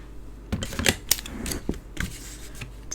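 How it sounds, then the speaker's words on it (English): Scissors snipping and trimming card stock at a crafting table, several crisp close cuts in short bursts with small rustles of paper between them. "I'm just going to give that a little snip out"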